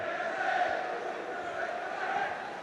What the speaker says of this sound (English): The crowd getting behind Cardiff City once more